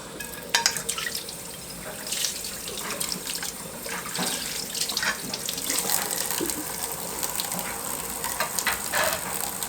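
Cold water runs steadily from a tap, splashing and trickling into a sink with small clinks, continuous and fairly close throughout.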